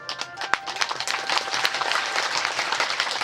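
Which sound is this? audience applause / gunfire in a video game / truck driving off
audience applause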